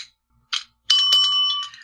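A small plastic bell rung on a comedy show gives a few bright metallic dings: two short taps, then a sustained ringing tone that lingers with a slight shimmer, heard alone without talk.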